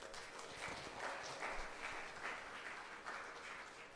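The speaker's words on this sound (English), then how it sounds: "Give a big round of applause first." A faint, distant round of applause from an audience at an innovation and research event rolls on evenly, heard from far across the hall.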